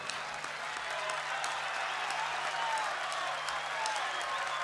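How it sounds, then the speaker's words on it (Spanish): Large outdoor festival crowd applauding for a cumbia band at Cosquín Rock 2022, a dense, steady wash of clapping and cheering that holds evenly loud throughout without a break. "Y este aplauso de parte nuestra para ustedes de corazón."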